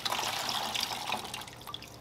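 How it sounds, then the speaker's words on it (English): Water and fish from a bag poured into a net beside a large African cichlid aquarium, a close, continuous splashing trickle with bright droplet patter that gradually eases off. "I pour the water and the fish right into the net"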